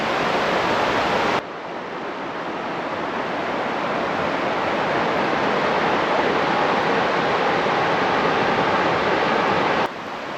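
A river in Lancashire rushes over rocks close by, giving a loud, steady broadband roar of churning water that holds evenly throughout with no voices.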